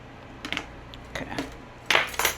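Salad being mixed with its dressing using metal cutlery: light clinks and scrapes in several short clusters against a quiet room, growing louder toward the end, with no talking.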